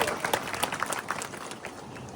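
An audience at a Gujarati honour ceremony for a retired CRPF jawan claps for his wife, a burst of scattered, fairly distant applause that thins and fades over a couple of seconds.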